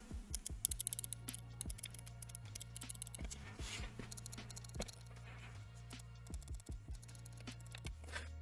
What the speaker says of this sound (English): those front and then back side buttons, which also feel really nice and clicky